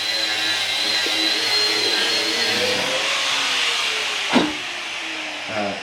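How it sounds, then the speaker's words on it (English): Grinding in a workshop gives a steady, loud, broadband hiss with a whining edge that runs unbroken throughout, interrupted by a couple of brief knocks near the end. "Jason's grinding."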